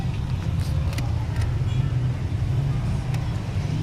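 Rough, uneven idle of a 2013 Ford Explorer engine misfiring from a dead number 3 injector, a steady low rumble close by with no talk.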